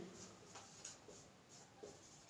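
Hand-writing a quadratic equation, with faint scratchy pen strokes arriving in short, irregular bursts, quiet and close, ending in a louder soft knock.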